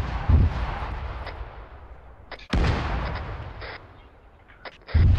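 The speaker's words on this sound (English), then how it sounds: "we got artillery coming in on that side" Artillery fire in Arma 3: three heavy, close booms spaced a couple of seconds apart, each with a long rolling rumble that fades before the next impact.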